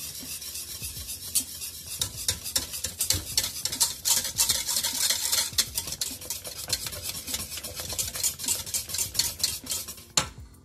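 Thick vegan pasta sauce gets stirred in a pan, with dense rapid clinks and scrapes of a utensil against metal over a soft sizzle, close and busy, ending in a sharper knock near the end.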